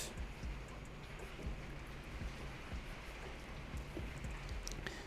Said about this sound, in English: It's raining pretty heavy here.